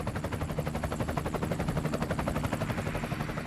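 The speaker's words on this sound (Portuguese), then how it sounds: "O helicóptero aproveita para abastecer" A helicopter at Genoa Cristoforo Colombo airport, on an artificial island by the harbour, with its rotor chopping in a steady, fast, loud rhythm throughout and no voices.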